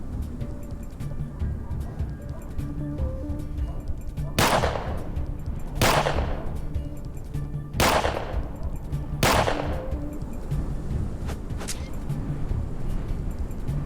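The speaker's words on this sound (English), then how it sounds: "Was that 4 or 5 shots that he got off?" Four sharp gunshots crack in the video game ATOM RPG: Trudograd, spaced a second or two apart over a steady engine-like hum, with a fainter fifth clank near the end.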